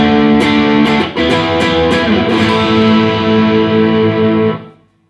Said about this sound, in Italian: E si può anche mandare in distorsione.